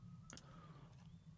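A computer mouse click during a copy action on a desktop, heard as a quick double click near the start and another sharper click at the very end, faint over a low steady room hum.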